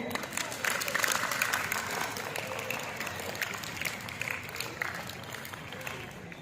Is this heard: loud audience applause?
yes